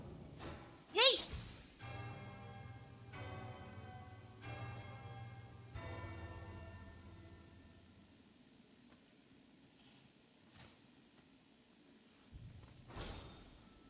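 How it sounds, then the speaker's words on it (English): A bell rings in a video game, one sharp metallic strike followed by a long ringing decay, with a few softer knocks and a person talking over it. "Another fucking bell."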